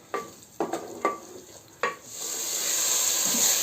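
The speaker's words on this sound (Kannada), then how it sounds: "ಇದನ್ನು ಚೆನ್ನಾಗಿ ಸಾಟೆ ಮಾಡೋಣ" Onion masala sautéing in a pan for chicken curry, with several distinct stirring scrapes over a light sizzle in the first two seconds, then a steady, louder hiss of frying that carries on alone.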